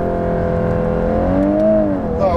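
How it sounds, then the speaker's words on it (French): A four-wheel-drive car launching hard with launch control, its engine note climbing steadily and loud through the gears from inside the cabin, with no one talking. "on va faire un petit launch control là"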